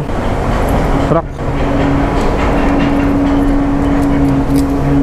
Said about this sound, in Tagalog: Ang ingay ng truck.